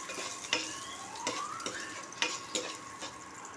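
Cashew nuts fry lightly in a kadai over moderate heat, giving a soft steady sizzle with occasional scraping stirs and faint utensil clinks, close and without talk.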